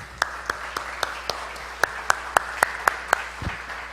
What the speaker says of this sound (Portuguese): Vamos aplaudir esses amados aqui